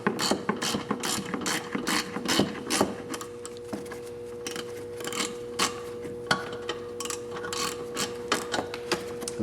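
A hand ratchet breaking loose and spinning out a bumper cover bolt on an Audi A4 B6 1.8T, giving loud close rapid clicking pawl bursts in repeated strokes with brief pauses and no voices.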